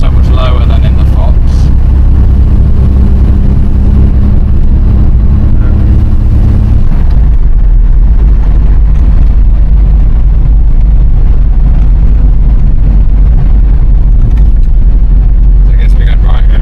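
A classic car drives along a narrow single-track road, its low engine drone steady and close, shifting pitch partway through as it changes gear, with a constant road rumble throughout.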